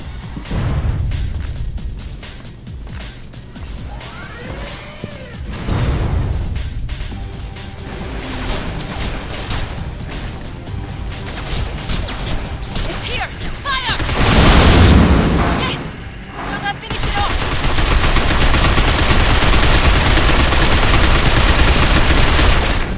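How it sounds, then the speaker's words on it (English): Gunfire and a heavy explosion erupt as a fuel tank is shot in the Binary Domain video game, with loud bursts of shots, mechanical clatter and a deep boom midway, followed by sustained noisy battle ambience. "Dan, when it comes, shoot the fuel tank."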